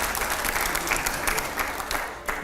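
An audience at a televised discussion breaks into applause, dense continuous clapping of fairly even loudness throughout.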